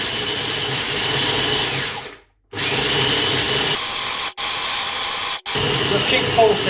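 Blender pulsing dried fruit into crumbs for a raw vegan recipe, a loud grinding whir in three bursts broken by short silent pauses.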